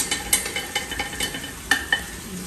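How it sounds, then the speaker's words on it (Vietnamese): Eel lightly frying in a pan in a rustic kitchen, with a soft steady sizzle and repeated scraping, clinking stirs of a utensil against the pan, close up and without talking. "Cái lươn này mình chỉ chiên sơ qua thôi mọi người."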